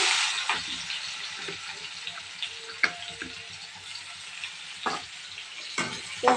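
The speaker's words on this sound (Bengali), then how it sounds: "পেঁয়াজটা ভাজা ভাজা করে নেব" Onions frying in oil with whole cumin seeds after dried fish was fried in the same oil, a steady sizzle and crackle with a few sharper pops and spatters, close and fairly quiet, no voices.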